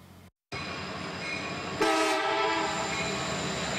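A train rolls along the tracks at 26th Street and Charles after a nearby road collapse, a steady rumble that swells with a brighter wheel-and-rail tone partway through, close and continuous with no talk.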